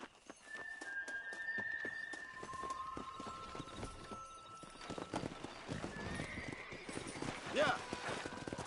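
A horse gallops in Red Dead Redemption with rapid, rhythmic hoof clip-clops and occasional whinnies, while people talk throughout.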